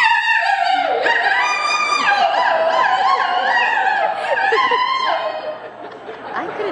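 A crowd of people imitates a wolf pack, howling cyclically with overlapping rising and falling wails while laughter and chatter run underneath.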